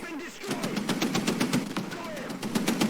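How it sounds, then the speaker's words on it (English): Rapid, evenly spaced bursts of machine-gun fire from an aircraft in War Thunder, sustained across the whole stretch and heard over a steady engine drone. "This guy's going to machine gun me instead of just killing me."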